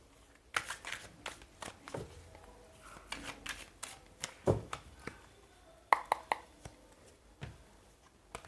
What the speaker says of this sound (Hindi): मुझे थोड़ा और एक बार शफल आउट करना है कार्ड्स को